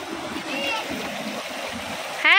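Cold mountain stream water rushing in the hills near Darjeeling, a steady close wash of flowing water with a voice speaking over it and a brief louder tone at the end.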